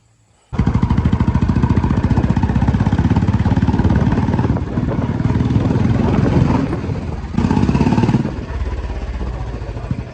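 Royal Enfield Bullet motorcycle engine running steadily while riding at night, a loud continuous low thump that dips briefly midway and then resumes.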